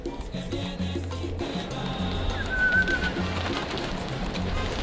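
Pigeons coo in low, repeated bursts on a New York City rooftop, close and fairly clear, under steady outdoor background hum, with a brief whistle-like sound partway through.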